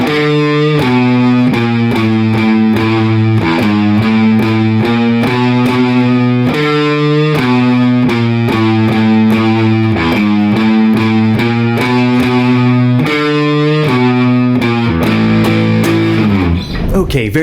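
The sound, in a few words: Bridge riff on distorted electric guitar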